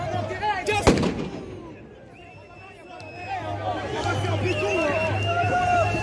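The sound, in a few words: grenades thrown during a street protest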